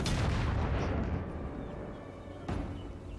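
Grand Cathay cannons firing during a siege battle in Total War Warhammer 3, a dense booming barrage rumbling continuously with a fresh sharp blast near the end, no voices.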